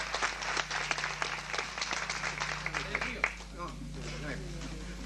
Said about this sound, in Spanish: Con el aplauso que él se merece.